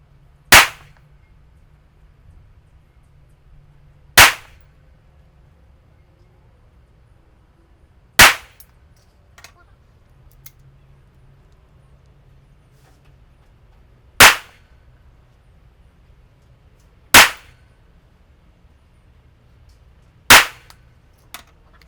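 A pistol, either a Colt or a Rock Island, fires at a 20-metre target in six sharp, loud, separate shots spaced a few seconds apart, with quiet pauses and faint handling clicks between them.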